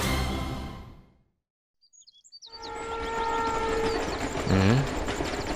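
A train rumbles past with rhythmic clatter and a rising whistle-like tone, after a brief quiet gap with faint bird chirps.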